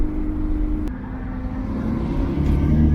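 Single-turbo BMW N54 335i, making about 715 wheel horsepower on a Precision 6766 turbo, droning loudly and steadily from inside the car with a low, continuous engine roar throughout.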